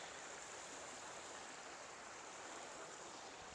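A river in Japan rushing beneath a bridge, a steady, even broadband wash of flowing water heard alone at a low level, without pauses.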